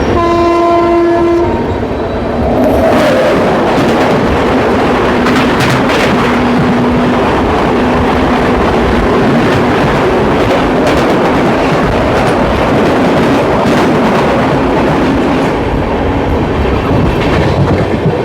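The Ranchi Rajdhani Express, train 20840 from New Delhi to Ranchi, runs at about 130 km/h. Its horn sounds in short blasts as it approaches, then a loud, continuous roar and clatter of coaches rushes past close by.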